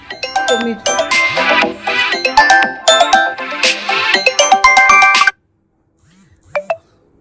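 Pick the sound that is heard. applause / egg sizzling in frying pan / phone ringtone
phone ringtone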